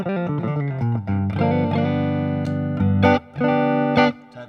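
Clean electric guitar tone played through a Line 6 Helix modeler, with sustained chords and picked notes ringing clearly and loudly, a few brief gaps between phrases, no talking.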